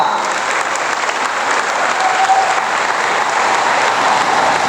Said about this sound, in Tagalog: Kayo palakpakan ng palakpakan.